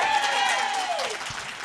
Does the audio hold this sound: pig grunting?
no